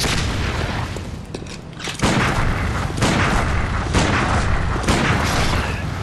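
Gunfire in the video game Bloodborne comes as several loud booming shots with sharp attacks and decaying tails, one after another over a continuous game soundscape.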